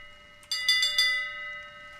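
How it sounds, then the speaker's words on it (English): A ship's bell in the pirate game Sea of Thieves is struck three times in quick succession, bright metallic clangs ringing out and fading slowly in a quiet scene. "Now we got bells. You can just hit them."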